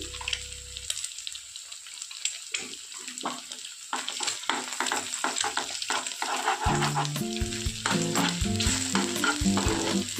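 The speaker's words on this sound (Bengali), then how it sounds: "এবার ডিমটা দিয়ে দেবো। দিয়ে দেবো অল্প পরিমাণ নুন," Egg frying with salt in a pan for Maggi: crackling sizzle that grows louder after a few seconds, with scraping and tapping from stirring, close by and without voices.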